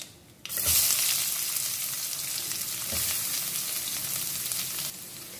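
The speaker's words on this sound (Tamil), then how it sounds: "நல்லா ஆனியன் வந்து நல்லா வதக்கணும்." Onions sautéing in hot oil in a kadai with mustard seeds, fennel, a dried red chilli, curry leaves and a little salt: a loud, steady sizzle that starts after a brief quiet moment and carries on alone, without talk.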